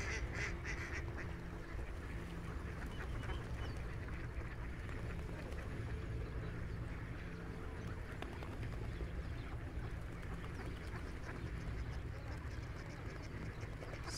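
Ducks and geese gather at a winter bird feeding spot in a Helsinki city park, quacking and honking in a steady outdoor clamour with some chatter of people nearby.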